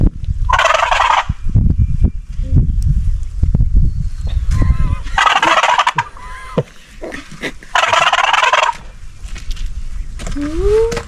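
Turkey gobbles imitated on a gobble tube call while hunting during Kansas opening weekend: three loud rattling bursts, each about a second long, at steady intervals over low rustling and handling noise outdoors.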